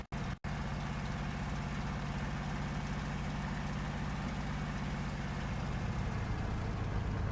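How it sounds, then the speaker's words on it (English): An aircraft engine warms up and settles into a steady idle, a continuous low throbbing drone after a brief cut at the start, even and sustained throughout. "We're waiting for the engine to get into a steady idle."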